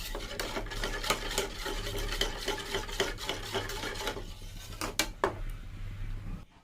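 Turmeric and red chilli powder are stirred into a mixture in a pot, heard as a steady rhythmic scraping and rasping of a utensil that stops briefly near the end, close and without talk.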